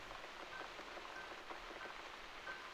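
Steady rainfall in the video game The Cat Lady, a soft continuous hiss of drops pattering on surfaces, quiet and unbroken with no voices.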